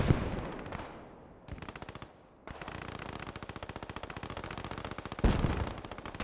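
Machine gun fire in the World War II shooter Post Scriptum, close sustained bursts of rapid automatic shots with a brief gap and echoing tails, no talking.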